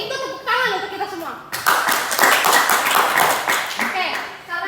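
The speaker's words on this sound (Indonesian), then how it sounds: "kalau begitu tepuk tangan untuk kita semua." A classroom of students clapping hands together during a teacher-training practice lesson, a steady burst of applause lasting a few seconds, with a teacher's voice speaking just before it begins.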